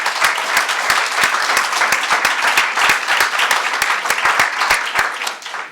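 An audience at an education talk applauds the teachers in the room, a dense, steady round of clapping with sharp individual claps standing out, loud and sustained before easing slightly at the end.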